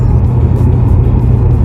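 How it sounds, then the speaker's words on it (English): A loud car heard from inside while driving on a mountain road, a constant heavy engine and road drone with deep rumble, steady throughout. "This car's a little loud."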